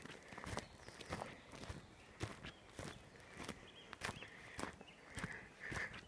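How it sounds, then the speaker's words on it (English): Footsteps crunching and stomping through dense forest undergrowth, a steady walking rhythm of close, sharp impacts alone without talk. "Sorry about the crunching and stomping, but that's the only way to get through the forest"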